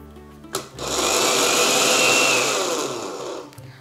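A mixer grinder pulverises raw flattened rice (poha) into powder, a loud, steady motor whine that starts abruptly, runs for about three seconds and then winds down, with no voices over it.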